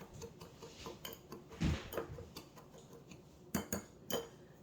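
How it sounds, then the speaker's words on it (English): A utensil mashes clumps of brown sugar in a bowl, producing quiet, irregular taps, clinks and short scrapes of metal against the dish. "just mash up the brown sugar a little bit, that way there's not a big bunch of clumps in it"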